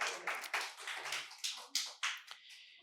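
Audience at a quiz competition at Santiniketan Medical College and Hospital applauds a correct answer, with a few loud claps and a patchy burst of hand-clapping across nearly three seconds, fairly thin rather than a full roaring ovation.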